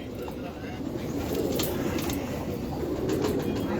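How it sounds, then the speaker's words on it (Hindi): Pigeons coo softly in a loft, low rolling calls running steadily beneath someone talking nearby. "कितना क्यूट कबूतर है ये"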